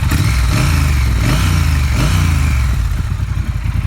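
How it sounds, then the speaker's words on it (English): A 2018 Triumph Thruxton R motorcycle with its 1200 twin engine revs up loudly and close, a rising throttle blip over a steady lumpy idle, repeated a few times before settling back down. "Let me give it another rev."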